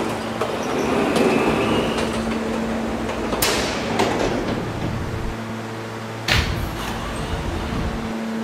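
A D train rides on rails with a steady rolling rumble and clacking from wheels and track, brief high screeches partway through, and a low hum underneath.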